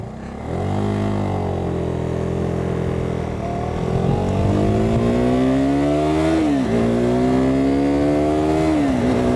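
A KTM 390 Duke single-cylinder motorcycle riding a gravel road, engine loud and close, revving up and easing back through several gear changes with rising and falling pitch and a steady rough rumble underneath.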